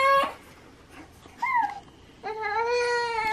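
A domestic cat meows indoors, three separate calls: a short one, then a rising-falling mew, then a longer drawn-out meow, fairly close and alone without talk.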